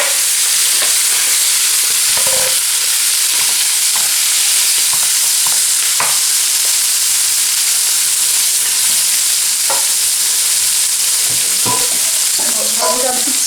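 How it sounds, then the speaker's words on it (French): Marinated liver frying in a pan with a little water, giving a steady loud sizzle throughout, broken by occasional soft clicks and stirring taps. "Alors je vais procéder à la cuisson du foie,"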